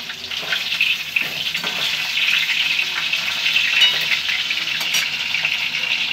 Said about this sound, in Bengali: এই দেখো কড়াতে মাছ দিয়ে দিয়েছি